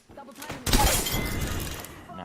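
An enemy shield cracks in Apex Legends with a sharp, close shattering burst of brittle breaking noise that rings out briefly and decays, amid game sounds and a voice talking.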